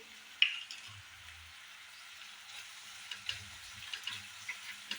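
Onion and red chili powder frying in a pan for bhurji, a faint, steady hiss of sizzling oil with a few soft ticks and small clinks close by.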